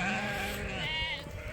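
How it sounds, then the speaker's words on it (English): A little lamb on a sheep farm gives a single close, wavering bleat that lasts about a second. "that's one of the little lambs"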